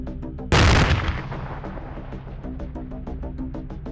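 A rocket-deployed MCLIC line charge packed with about 1,700 pounds of C4 detonates over a minefield with one sudden, very loud broadband blast, followed by a long rumbling decay and a rapid series of crackling secondary pops.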